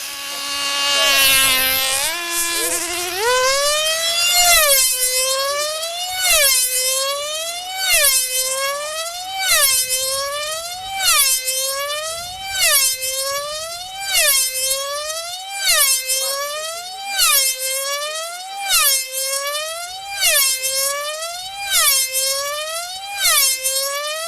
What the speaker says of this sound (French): Avec ses avions aux ailes métalliques asymétriques bien spécifiques et ses moteurs préparés